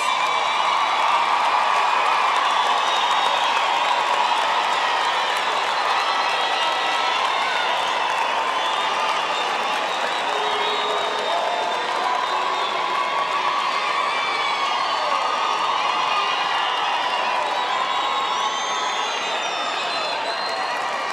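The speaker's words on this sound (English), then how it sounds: "Let's give them all a hand of applause." A large crowd at a university autumn graduation ceremony fills the hall with sustained applause mixed with cheering and whoops, holding steady and loud for the whole stretch without pause.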